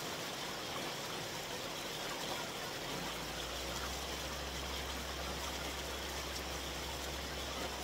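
A river flows steadily in a steady broadband wash of water, with a low engine-like hum joining partway through; no talking over it.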